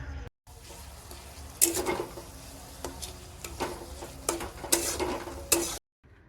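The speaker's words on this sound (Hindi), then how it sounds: "यहाँ पे मेरा तेल गर्म हो रहा है, उसके बाद मैं फ्राई करना शुरू करूँगा" Vegetables for fried rice fry in hot oil, a steady moderate sizzle with a few sharp spatula knocks and scrapes against the pan, no voices.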